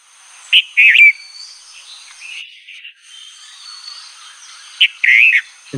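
Birds chirping and whistling in short bright bursts, a couple of clear clustered calls near the start and again near the end, with softer faint song in between and no talk.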